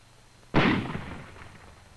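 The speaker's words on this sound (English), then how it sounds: "Here's a rifle grenade. Watch the recoil." A World War II-era rifle grenade is launched with one sudden loud blast, followed by a roughly one-second decaying rumble and then quiet.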